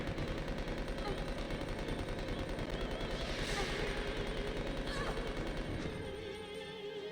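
Rapid automatic gunfire in the video game Resident Evil Code Veronica, a loud continuous burst of shots that runs for about six seconds before tailing off.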